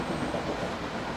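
A train runs in the OpenBVE train simulator game, heard as a steady, dense rolling rumble with a faint rhythmic clatter for about a second, with no talking.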